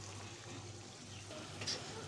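Two medium onions and green peppers go into a hot frying pan with some liquid while making Kayseri yağlaması, giving a steady low sizzle with faint stirring and a brief clatter near the end.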